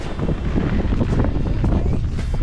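Strong, steady wind buffeting the microphone on a cold winter day in Alaska, a continuous low roar and rumble with gusty surges and no voices.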